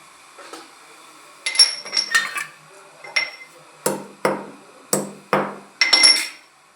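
Cardamom pods pounded in a mortar and pestle for ginger-cardamom tea, a series of about ten sharp, close knocks in uneven rhythm, some in quick pairs, with quiet gaps between and no talking.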